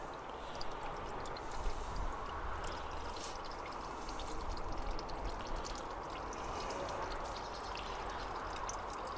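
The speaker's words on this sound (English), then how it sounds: "so it's mainly water coming out there now" Water drains from a Techtron 3 kW cabinet steam wax melter in a quiet, continuous trickle and pour, with faint dripping above a low steady wash.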